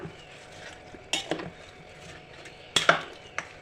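A few sharp metallic scrapes and clinks of a spoon stirring a Malvani-style colocasia leaf curry in a pot, spaced out against a quiet background hiss.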